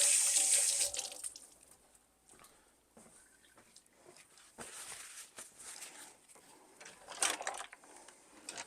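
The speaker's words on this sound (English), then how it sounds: "Just washing my hand off real quick." Hands rinsed under a running tap at a sink, with a hissing water stream that is loudest at first, then fades into softer splashing and trickling, quiet and close.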